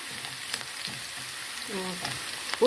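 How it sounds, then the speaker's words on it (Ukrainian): Onion sizzles steadily in a frying pan as it browns toward golden, a close, continuous crackle and hiss with occasional stirring clinks. "Тут ми смажемо до гарного золотистого кольору."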